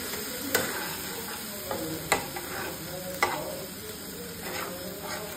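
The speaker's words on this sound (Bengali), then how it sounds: "বাটা মশলাটার মধ্যে আমি দিয়ে দেবো হলুদ গুঁড়ো, আমি লাল লাল করে ভেজে নিয়েছি।" A spice paste of ginger, cumin and turmeric fries in a pan, giving a soft, even sizzle with a few sharp spoon taps against the metal spaced a second or so apart.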